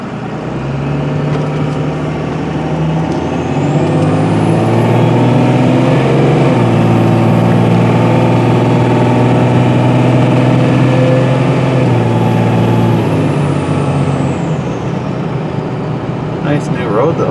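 Tankenstein, a junk-hauling truck, rolls slowly down a bumpy road with a steady, loud engine drone that rises and falls in pitch, heard from inside the cab for the whole stretch.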